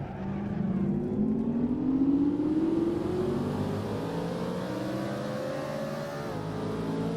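A 1968 Toyota 415S race car engine in the Assetto Corsa racing game at Pukekohe Park, droning steadily and climbing in pitch as it accelerates through a lap, loud and continuous with no talk.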